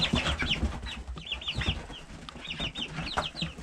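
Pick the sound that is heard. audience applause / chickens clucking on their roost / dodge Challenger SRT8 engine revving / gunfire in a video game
chickens clucking on their roost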